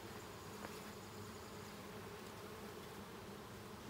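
A steady, soft drone of honey bees buzzing around an opened hive, continuous and fairly faint, with no talk.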